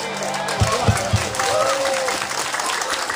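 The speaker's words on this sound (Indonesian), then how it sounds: "Kepadanya marilah kita berikan aplaus yang luar biasa" Audience applause for Madrasah Aliyah graduates at a 2022 school graduation ceremony, a steady broad wash of clapping with a few louder thumps near the start, running under a talking voice.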